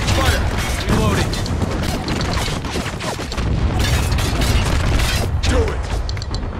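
Heavy booming blasts and mechanical clanks ring out from mortar fire in the Spec Ops: The Line combat game, dense and loud amid continuous battle noise and shouted voices.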